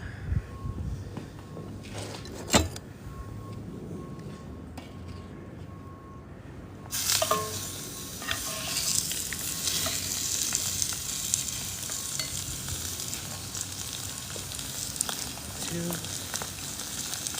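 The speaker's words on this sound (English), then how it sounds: "We're gonna sear each side." A reverse-seared ribeye steak sizzles loudly in a hot pan, steady frying hiss rising sharply after a quieter opening and continuing throughout, with occasional pops and a person talking over it.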